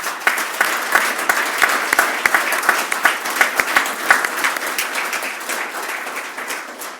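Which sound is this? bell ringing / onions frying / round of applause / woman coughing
round of applause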